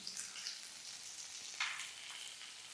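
Spices and chili powder sizzle softly in a pan, a faint continuous crackle with a brief louder stir-like swish midway and no talking.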